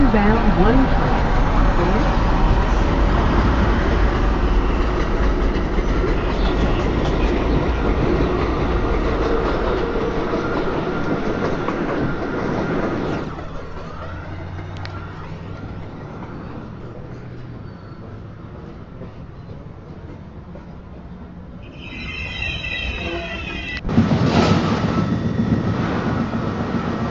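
A Manhattan-bound NYC 1 subway train pulls into the station with a loud, close rumble and clatter that eases off midway, then a short run of chime tones near the end, with a voice over the train.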